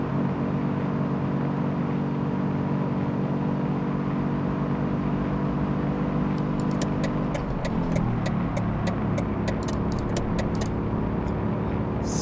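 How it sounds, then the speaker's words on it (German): A 90 hp Audi 80 B2 engine drones steadily in the City Car Driving video game, a constant loud hum whose pitch shifts as the car downshifts, with clicking sounds toward the end. "Wir schalten mal in den dritten Gang zurück."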